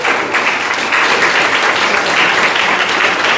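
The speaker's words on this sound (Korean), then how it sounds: "박수 한번 주세요." A crowd applauds at a political party's provincial chapter inauguration ceremony. The clapping is loud, dense and unbroken from start to finish.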